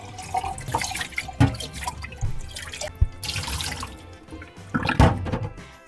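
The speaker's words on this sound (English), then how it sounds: "we're going to give it a good rinse out with cold water." Cold water runs and splashes into a glass sprouting jar in short bursts, sloshing and clinking as it is rinsed nearby.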